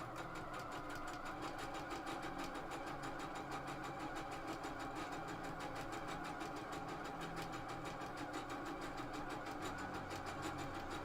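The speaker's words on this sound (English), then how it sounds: "Let me just make a quick seam here." A sewing machine runs a quick seam, a steady rapid mechanical chatter of stitching that continues unbroken and fairly close.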